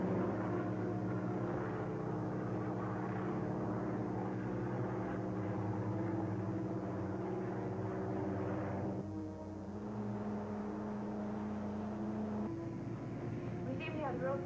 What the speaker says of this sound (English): They're trying to overtake it in their plane.